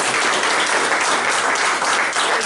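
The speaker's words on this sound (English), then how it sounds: "So, on behalf of the Troup City Council, we applaud you." Loud, sustained applause from the attendees of a Troup City Council meeting, a thick wash of many hands clapping at once with no gaps or voices.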